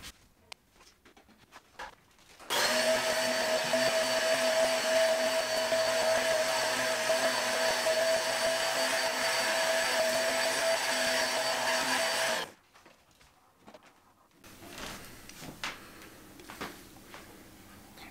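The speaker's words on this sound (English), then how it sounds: "we're going to vacuum for the third time." Vacuum cleaner switches on abruptly and runs with a loud, steady whine for about ten seconds before cutting off, followed by faint handling noises nearby.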